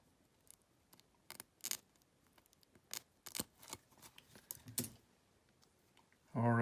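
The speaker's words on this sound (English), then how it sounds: "I'm going to get some more pheasant tail fibers. I'm going to get, I don't know, a few, 6, 7, 8. And I'm going to cut them off." Scissors snip through a small bunch of pheasant tail fibers at a fly-tying bench, a series of sharp, faint clicks and cuts spread irregularly over several seconds, close by and quiet.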